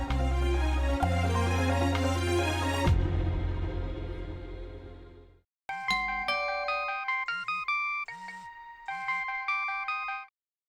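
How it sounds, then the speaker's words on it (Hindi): A melodic phone ringtone plays bright, repeating chime-like notes in short cycles with brief pauses. It follows a stretch of dramatic background music and cuts off abruptly, with no talking. "बाला, जरा फोन करके पूछो तो कि कब तक वापस आएगी।"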